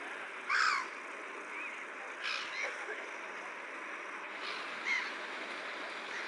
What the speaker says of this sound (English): Again, there's a lot of gulls.